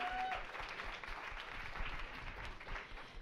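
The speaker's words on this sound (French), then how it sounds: "Main d'applaudissements pour le Bistro Brain." Audience applause and cheering at a bistro-style event, a dense steady patter of many hands with a few whoops, sustained and fairly close throughout.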